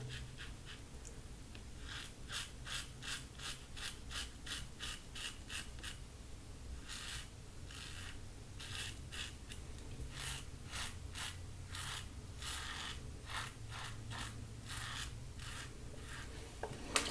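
A Gillette Slim Twist safety razor scrapes against the grain in a rapid run of short, crisp strokes, close and fairly quiet, with brief pauses between bursts.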